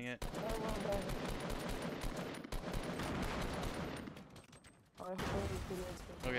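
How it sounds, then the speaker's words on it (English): Grenades explode during a Fortnite Battle Royale match on Windows PC, a dense, loud, continuous roar of combat blasts and gunfire-like bursts that dips briefly near the end and then surges back. "I'm throwing grenades."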